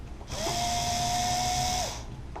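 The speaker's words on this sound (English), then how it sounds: "run it in most of the rest of the way with a driver to save some time" A power driver runs a screw into an LC Racing BHC-1 aluminum bulkhead: a single steady, close, high-pitched whir lasting about a second and a half, starting and stopping cleanly.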